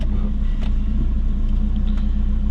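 Turbocharged Subaru Forester engine, street-tuned on base fuel, idling steadily at operating temperature; a loud, continuous low rumble with an even throb and no rise in revs throughout.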